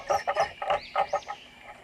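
A chicken clucking close by in a rural yard, a quick series of about eight short, rhythmic clucks and squawks, with no talk over them.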